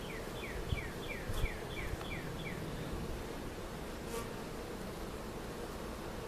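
Honey bees droning steadily inside an open beehive, a close, continuous buzz with a few individual bees sweeping past in quick rising-falling passes.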